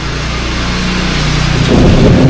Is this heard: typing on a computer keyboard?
no